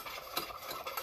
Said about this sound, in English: But just keep mixing it until you don't see any more on the spoon